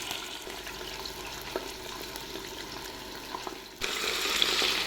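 Oil and ghee sizzle quietly in a pan in a home kitchen before onion goes in, a soft steady frying hiss that jumps louder and brighter near the end.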